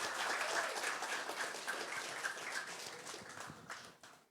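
Fairly faint applause from a church congregation, sustained clapping that tapers off toward the end.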